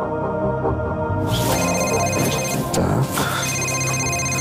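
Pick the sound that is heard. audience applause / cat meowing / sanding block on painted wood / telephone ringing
telephone ringing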